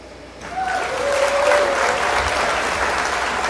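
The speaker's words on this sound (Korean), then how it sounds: "큰 박수로 맞이해 주시길 바랄게요" Festival audience at an Incheon song concert gives a sustained, loud round of applause to welcome the new MC, many hands clapping steadily from the crowd while a brief vocal tone rises over it early on.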